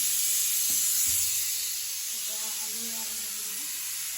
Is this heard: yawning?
no